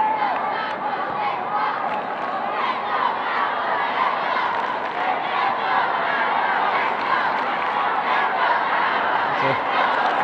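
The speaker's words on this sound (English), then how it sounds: "Crowd here having a great time." A football crowd at an under-15 schools' cup match at Nene Park cheering and chanting, a steady, loud, continuous roar of many voices with shouts rising and falling throughout.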